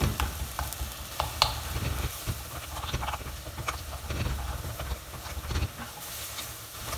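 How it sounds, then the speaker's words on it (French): Ground meat for chili con carne sizzles in a hot pan while a utensil scrapes and taps steadily to break it apart, no voices. "Donc on égrène la viande de cette manière."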